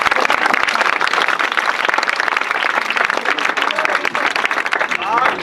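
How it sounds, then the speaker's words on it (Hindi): Loud, dense applause from an audience honouring their teachers at a Teacher's Day event at a coaching centre, sustained throughout without a break. "मैं चाहता हूँ जोरदार ताली बजाइए।"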